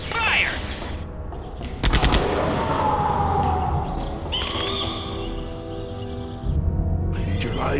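Bursts of gunfire from a firefight in the Jurassic Park Telltale video game, with sharp loud volleys near the start and again around the two-second mark, set against a busy ambient background; voices are heard talking in the scene.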